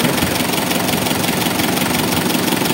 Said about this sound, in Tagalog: naka-start na yung makina